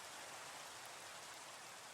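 Steady rain in Minecraft on the ATM7 Skyblock modpack, a dense even hiss of falling drops that runs unbroken and alone at moderate level.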